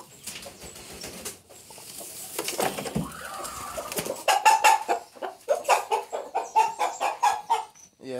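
Broody hens cluck in a series of short, rhythmic, fairly close calls that grow denser and louder toward the end, with faint background noise beforehand.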